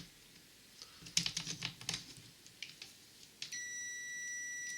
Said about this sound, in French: on va passer au multimètre en mode bip, hein, en mode continuité.